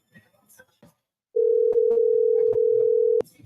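While placing a phone call to Roy Thompson, a steady electronic telephone tone sounds loud and close for about two seconds, with brief background speech before and during it.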